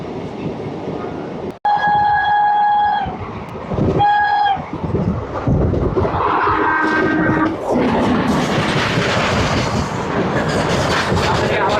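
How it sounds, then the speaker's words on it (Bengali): A freight train rushes past at speed on the Haldia line, a loud continuous roar of rolling wagons and clattering wheels, with a couple of sustained horn blasts near the start and a voice faintly under the din. "একটা মালগাড়ি দ্রুত গতিতে এগিয়ে চলেছে শিল্পনগরী হলদিয়ার দিকে"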